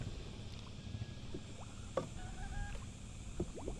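A small boat moves across the water close by during shore fishing, with a low engine rumble and sloshing waves under light wind.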